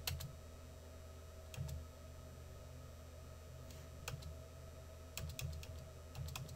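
Faint computer-keyboard keystrokes come in short scattered bursts over a steady low electrical hum, without any talk.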